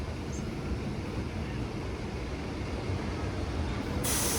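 A MEMU train pulling into Erode Junction railway station makes a continuous loud, broadband rumble of wheels and carriage noise, steady and close throughout.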